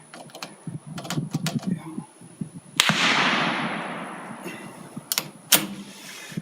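A 9mm pistol held in a Ransom Rest and firing 135-grain bullets with a light charge gives a single sharp shot with a long, noisy tail, surrounded by clicks and handling clatter.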